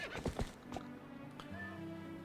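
Epona the horse in The Legend of Zelda: Twilight Princess HD gives a loud whinny, followed by quieter game sounds and a sustained musical tone.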